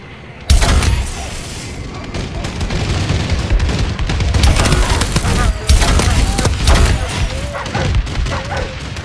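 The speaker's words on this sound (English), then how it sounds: "Friendly bombing run clearing the way." Friendly bombing run explosions in Call of Duty: Advanced Warfare Exo Survival, a sustained barrage of loud booming blasts and debris crackle starting abruptly and rolling on continuously.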